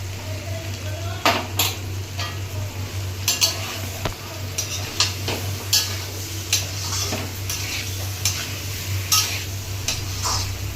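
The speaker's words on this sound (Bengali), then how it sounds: "ভালো করে কষে নেব।" A salted curry is stir-fried in a pan. Repeated scraping strokes and light utensil clinks run irregularly throughout over a low background hum.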